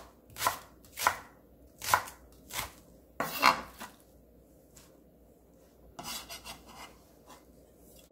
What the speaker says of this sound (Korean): 대파 한 뿌리 썰어줍니다